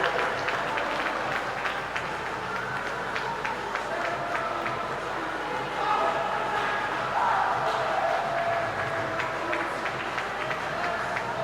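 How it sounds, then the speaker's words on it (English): Steady crowd applause and cheering at a swimming championship carries on throughout, with a public-address voice faintly audible beneath the noise. "Please give a big lot of applause for Zach Reed, ladies and gentlemen."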